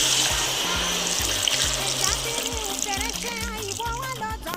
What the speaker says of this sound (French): Ensuite, je file l'eau épicée.